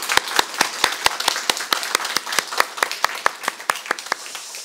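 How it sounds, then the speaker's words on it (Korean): Church congregation clapping together in steady, evenly spaced sharp claps at a brisk rhythm, fairly close and clear, with no talking. "우리 큰 박수로 하나님 앞에 영광을 돌리겠습니다."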